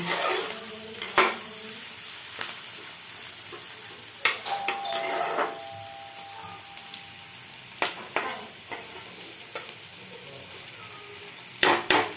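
Onions frying in a pan give a steady, moderate sizzle throughout, broken by scattered clinks and taps of a utensil against the pan, with a short tonal ring partway through.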